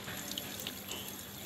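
Water running steadily from a tap as people drink, a short, continuous splashing stream at close range, with no talking.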